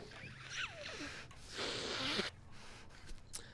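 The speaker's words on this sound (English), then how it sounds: "I apologise, I had to blow my nose." Someone blows their nose with a long, breathy, rushing blast in the middle, preceded and followed by faint sniffs and rustling, close to the microphone.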